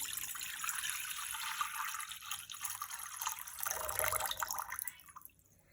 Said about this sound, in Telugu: దీనికి నేను 2 cups ఆఫ్ వాటర్ తీసుకొని ఇందులో వేసుకుంటున్నాను